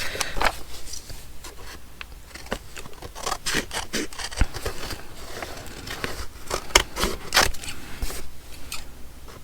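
Scissors snipping through paper for a junk journal, a run of quick, close, crisp cuts and rustles with no talking.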